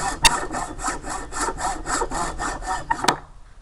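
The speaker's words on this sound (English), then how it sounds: "Hacksaw works good. You take the handle and cut the end off even with the head." A hacksaw cutting through the end of a wooden hammer handle, with roughly a dozen rapid, evenly paced rasping strokes close up and loud, a sharp knock near the start and another near the end before it stops.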